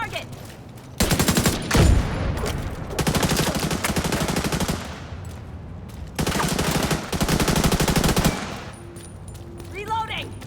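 Gunfire in The Division 2 video game: long bursts of rapid automatic weapon fire in two main strings separated by a short lull, loud and close, with game effects in between.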